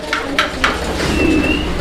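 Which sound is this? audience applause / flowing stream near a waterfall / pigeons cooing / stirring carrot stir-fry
pigeons cooing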